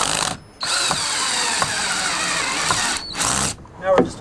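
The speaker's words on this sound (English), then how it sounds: "So now I'm fastening the bottom rail to the post." A power drill driving screws to fasten a composite deck railing's bottom rail to a post, with long steady whirring bursts broken by short pauses, close and loud.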